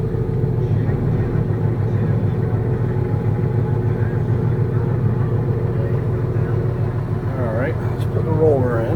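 A New Holland 900 harvester runs with its PTO engaged, giving a steady, dense mechanical rumble and drone throughout, with a brief voice-like sound rising over it near the end.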